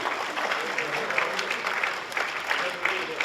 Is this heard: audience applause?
yes